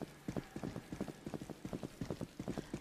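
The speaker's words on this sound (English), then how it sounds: "What do you do when you hear the footsteps?" Footsteps in a Roblox video game, a fast, even run of light thuds and clicks repeating steadily, fairly loud and close, with no voices.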